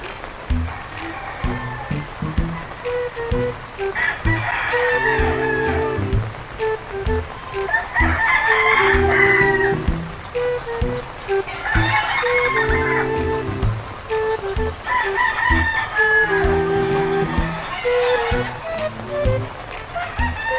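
Rain-soaked chickens in a Philippine yard crow and cluck repeatedly, roosters calling in long rising bursts over a steady hiss of rainfall, fairly close and loud throughout.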